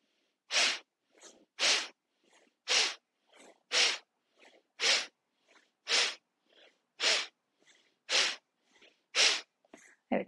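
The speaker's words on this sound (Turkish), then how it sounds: "tekrar bir 10 kez burnumuzdan sümkürelim" Forceful nasal exhalations in a Tibetan yoga breathing exercise: about ten sharp, loud snorting bursts in a steady rhythm, each followed by a quieter intake of breath, with no talking.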